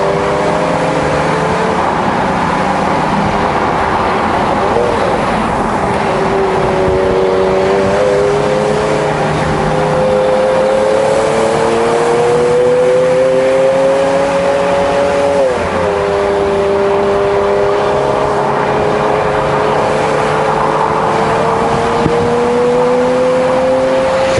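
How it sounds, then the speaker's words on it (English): A Porsche car engine droning steadily while driving, a loud continuous tone that rises and falls gently as the revs shift, heard from inside or close by with no talking. "What a sound that the Porsche makes."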